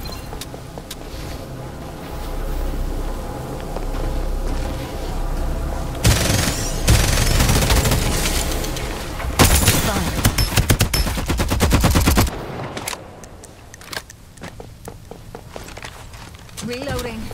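Heavy automatic gunfire and bursts in a shooter video game, loud and dense, with rapid machine-gun volleys peaking midway, mixed with game voice lines and a quieter reloading stretch toward the end.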